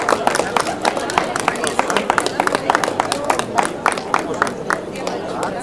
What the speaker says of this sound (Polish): Brawa, brawa, brawa dla maluchów!